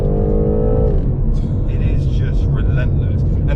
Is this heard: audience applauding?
no